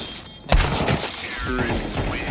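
A grenade explodes in a video game with a sudden loud burst, followed by a crackling, rumbling tail and game noise. A voice talks over it.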